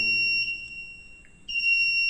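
A generator changeover switch's buzzer alarm sounds a steady high-pitched electronic tone continuously while set to generator, dipping briefly in the middle before resuming at full strength.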